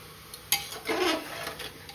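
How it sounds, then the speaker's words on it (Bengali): A utensil scrapes and knocks against a pot while chicken pieces are stirred in salted oil for homemade chicken soup, giving a sharp clack followed by a short scraping swirl and a faint sizzle, close up and without talk. "এবার এটা নাড়তে হবে।"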